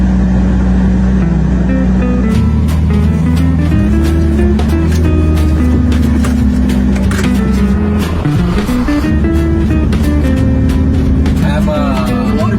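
A Ferrari driving, its engine droning steadily with shifting pitch through gear changes and revs, loud and close from inside the car, with people talking over it.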